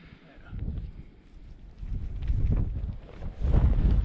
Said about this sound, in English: Windy morning.